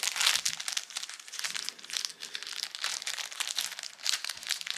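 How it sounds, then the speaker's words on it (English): Plastic packaging crinkles and crackles as a new Squale watch is unwrapped, close and fairly quiet, with irregular bursts of rustling and small tearing sounds throughout. "Let's see if we can get it out of this plastic."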